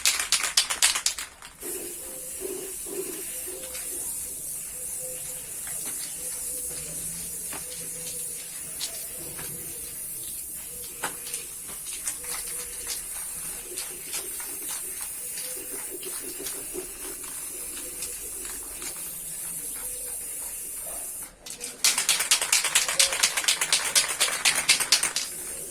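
A spray gun applies white paint to a bird nest made from PVC, giving a long, steady hiss with bursts of louder spraying at the start and end.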